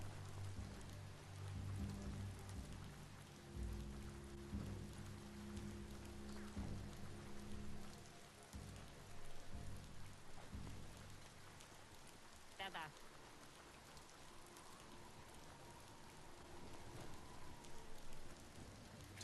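Rain falls in the video game Biomutant, a steady moderate hiss of drops heard alongside low game tones and voices speaking.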